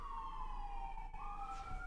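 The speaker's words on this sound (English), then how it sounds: "There's a lot of sirens." Emergency vehicle sirens wail steadily outside, moderately loud and slightly distant, holding a continuous rising and falling tone with no talk.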